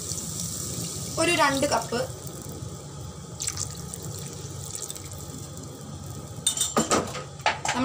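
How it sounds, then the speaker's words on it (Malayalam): Lukewarm water is poured into a Kerala-style fish curry, with a running-water sound, clinking utensils and a nearby voice talking throughout. "ഞാനിപ്പോൾ ചൂടാക്കി വെച്ച ലൈറ്റ് വാം വാട്ടറാണ് ഇതിലേക്ക് ഒഴിക്കുന്നത്"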